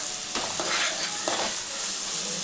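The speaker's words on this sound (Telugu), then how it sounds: "ఈ అల్లం పేస్టు ఇవి ఉల్లిపాయలు మంచిగా వేగాలి." Ginger paste and onions fry in a pan for gongura chicken, giving a constant loud sizzle with a few scraping stirs.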